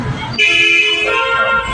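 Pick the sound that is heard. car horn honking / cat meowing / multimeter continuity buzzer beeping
car horn honking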